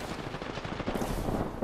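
Rapid gunfire in the Apex Legends video game: dense, steady volleys of shots rattling without pause, fairly quiet and crowded together.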